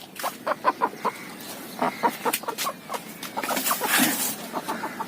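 A country hen clucks in short, repeated bursts at close range, with a few sharper calls mixed in and no talking.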